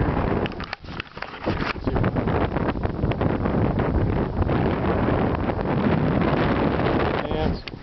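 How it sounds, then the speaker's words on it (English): Strong wind gusting across the open desert floor at Badwater in Death Valley on a hot day, a loud continuous buffeting roar that swells and dips throughout. "there's a good wind blowing"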